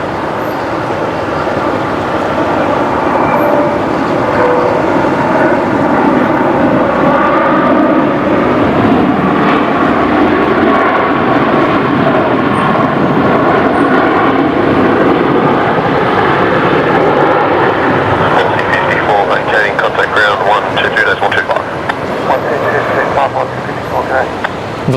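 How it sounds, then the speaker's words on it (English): A Boeing 737 Max 8 touching down on runway 19 left at Brisbane Airport at sunset, a loud sustained roar of engine and rushing air holding steady throughout, with people talking over it. "The Max 8 just touched down."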